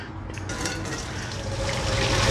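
Water from a pot of boiled pasta drained off for baked stuffed shells, a steady close pouring and splashing rush that swells slightly toward the end.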